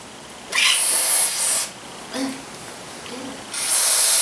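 Cleaner sprays in loud, close hissing bursts onto gasket material on a Honda Rebel 250 motorcycle stator cover, with two long blasts, a couple of shorter puffs between them, and quiet pauses.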